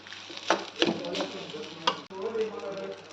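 Coconut pieces frying in fresh homemade ghee give a steady close sizzle, broken by a few sharp clinks and scrapes of stirring, with no talk.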